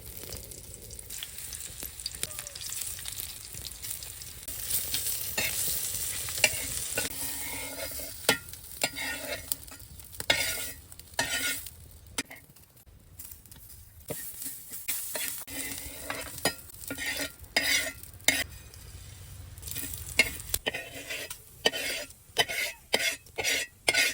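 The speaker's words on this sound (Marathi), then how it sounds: "आता हा मसाला अर्धा चमचा तेल टाकून एक एक करून सर्व मसाला परतून घ्यायचा" Masala being sautéed in half a spoon of oil for a village-style crab curry, with steady frying and stirring and many sharp scraping clicks of a spoon against the pan, louder toward the end.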